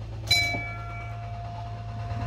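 A zoo ride train, the Pride of Africa at Akron Zoo, starts off with a brief clank and bell-like ring, then keeps up a steady hum and faint rolling rumble with no talking.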